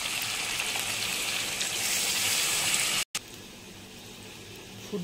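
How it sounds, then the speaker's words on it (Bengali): Water is poured into a pan of chicken curry with fried potatoes, a steady close hissing gush that cuts off abruptly, then continues more softly. "এবার জল দিয়ে দেবো।"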